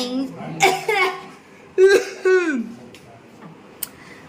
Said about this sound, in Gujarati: ઉધરસ આવે છે અહીંયા તો યાર